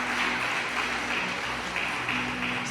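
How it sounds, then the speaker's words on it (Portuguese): A church congregation giving a round of applause to the Lord, a dense, continuous wash of clapping that stays loud and even throughout, with a faint voice underneath. "Se você crê, dá uma salva de palmas ao Senhor."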